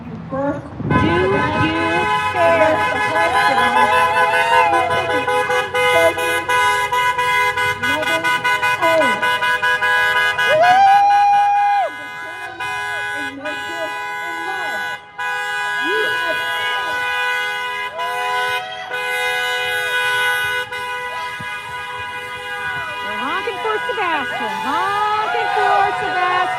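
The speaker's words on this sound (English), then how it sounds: "Honking for Sebastian." Car horns honk repeatedly at a honking event, several horns overlapping in long sustained blasts and shorter toots, loud and close, with voices and cheering mixed in around them.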